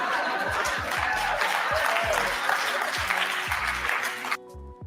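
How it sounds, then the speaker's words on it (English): Audience applause from a crowd at a stand-up comedy show, steady clapping with some scattered laughter throughout, ending abruptly. "Pause right there for a second while they give him the hand clap"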